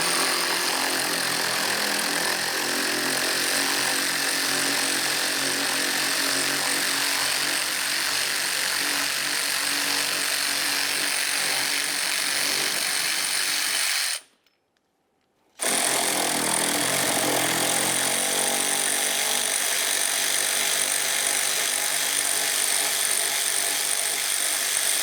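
A power tool runs steadily, loud and continuous, while backing out two 8mm-headed bolts in the front wheel well of a 2003-2011 Mercury Grand Marquis, cutting out briefly midway before resuming.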